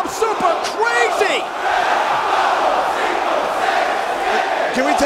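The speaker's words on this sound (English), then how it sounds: "The crowd chant in Spanish for the 10 count turnbuckle punches." A wrestling arena crowd at ECW One Night Stand 2005 chants the count in Spanish during Super Crazy's ten-count turnbuckle punches, rhythmic shouted voices with whoops swelling loudly across the hall.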